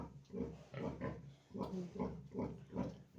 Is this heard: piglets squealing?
yes